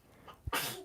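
A single sharp sneeze bursts out close by after a short breathy intake, loud and sudden, followed by a brief airy tail.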